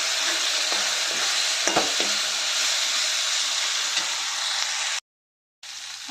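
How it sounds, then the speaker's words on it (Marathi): Turmeric and garam masala are stirred into bell peppers frying in a pan, producing a loud, close sizzle with a few scraping stir strokes. It cuts briefly to silence before the frying resumes. "आता हे सर्व घालून मिक्स करून घेते"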